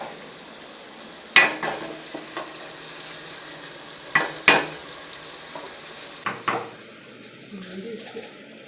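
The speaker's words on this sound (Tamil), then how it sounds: "நல்லா சகப்பாகிற வரைக்கும் வதக்குங்க" Onions for mutton biryani sauté in a hot pan, a soft steady sizzle broken by a few sharp spatula scrapes and knocks against the pot.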